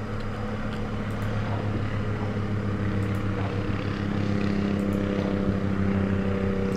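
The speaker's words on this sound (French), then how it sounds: "On fait notre tour d'hélice pour aider au démarrage." A propeller on a Morava L200 light twin aircraft in a flight simulator, turned by hand to help the engine start, with a steady mechanical drone and low hum running throughout.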